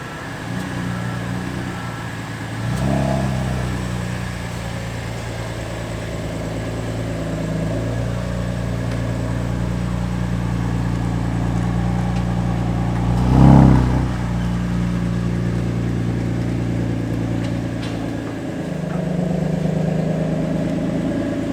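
A BMW M2 CS racecar engine runs with a steady tonal drone that swells into revs near 3 s, peaks briefly around 13 s and rises again toward the end, close and loud.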